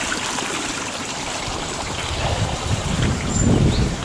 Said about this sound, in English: There's the water flowing beautifully.